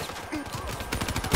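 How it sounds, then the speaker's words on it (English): Gunfire in Black Ops 3, a dense rattle of rapid shots that grows louder toward the end, close and busy, with a brief voice mixed in. "Stop shooting me."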